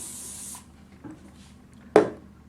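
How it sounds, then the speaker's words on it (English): An aerosol can of hairspray sprays onto hair in a short hiss lasting about half a second, followed by a quiet pause, a soft rub and a sharp click near the end, all close up. "I'm just going to put my head down and put some hairspray on"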